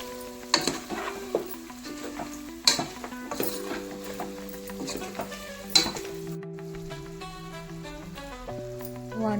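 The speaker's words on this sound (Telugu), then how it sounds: "వన్ మినిట్ తర్వాత అల్లం వెల్లుల్లి పేస్ట్ కూడా వేసేసుకోవాలి. వేసుకొని ఇలా మొత్తం కలుపుకోవాలి." Ginger garlic paste being stirred into chicken frying for a masala chicken fry, with soft sizzling, spoon scrapes and clinks against the pan under background music.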